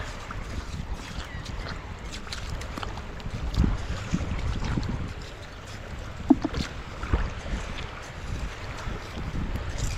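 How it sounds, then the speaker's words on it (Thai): Strong wind blows outdoors in an open area where wild vegetables are gathered and clams dug, a steady broadband roar buffeting the microphone with a few louder gusts and thumps. "วันนี้ลมเยอะ"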